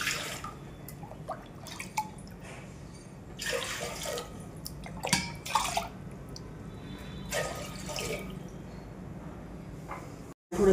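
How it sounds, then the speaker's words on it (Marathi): Water splashes and trickles into a pot as three cups are measured for chakli dough, with irregular pours and drips, close and fairly quiet, no talking. "काहीच टाकायचं नाही, फक्त 3 वाट्या फुल पाणी भरून."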